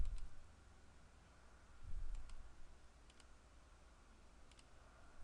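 A computer mouse is right-clicked several times while operating Aberlink 3D measurement software: faint, sharp, isolated clicks spaced a second or so apart over a quiet background hum.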